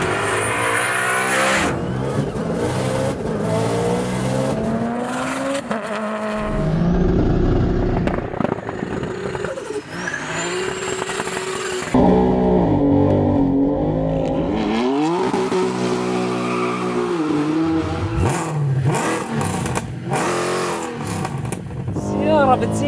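A 750-horsepower BMW M3 G-Power car accelerates hard with repeated rising engine roars and gear changes, loud and close, interrupted by brief pauses, with someone talking over parts of it.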